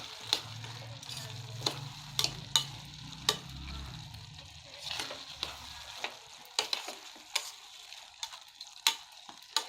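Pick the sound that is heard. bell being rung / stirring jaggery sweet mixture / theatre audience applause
stirring jaggery sweet mixture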